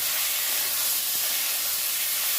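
Marinated chicken pieces hitting hot oil in a pan, a dense, even sizzling hiss that holds steady and close throughout, with no talking.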